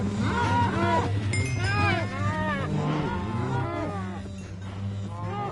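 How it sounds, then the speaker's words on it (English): Many cows moo in Minecraft Bedrock Edition, a dense chorus of overlapping low, drawn-out moos from a crowded pen, loud and continuous over several seconds with a faint voice underneath. "I don't know if I've ever had this many cows in one spot like this before."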